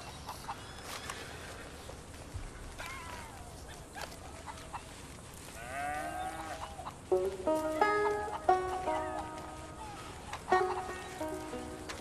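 Chickens cluck and squawk in Red Dead Redemption 2, scattered calls close and far over a quiet outdoor ambience, growing busier and louder toward the end.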